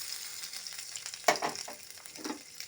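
Chopped coconut and peanuts fry in hot oil in a wok, a soft steady sizzle broken by a few sharp crackles and the scrape of stirring, close and fairly quiet.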